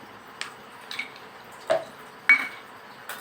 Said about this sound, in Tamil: இன்னும் கொஞ்சம் ஐஸ் க்யூப்ஸ் போட்டுக்கலாம்